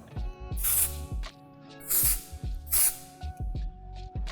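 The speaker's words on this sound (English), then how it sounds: "I'm gonna spray the texturizer just all in this" Three short bursts of aerosol hair texturizer spray hiss, close up, separated by brief pauses, with soft handling sounds and a faint musical hum underneath.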